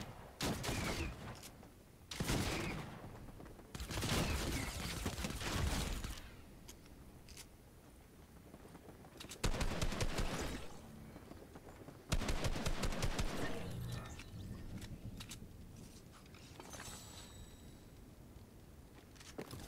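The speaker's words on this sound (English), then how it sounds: "The guardian lady shooting at us." Video game gunfire from a guardian lady firing at the player, with long loud bursts of rapid automatic shots separated by quieter gaps.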